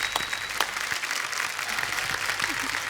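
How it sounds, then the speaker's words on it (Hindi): A television comedy show studio audience applauds steadily, a dense, even wash of clapping that holds at the same level from start to finish. "एक बार जोरदार तालियां हो जाए"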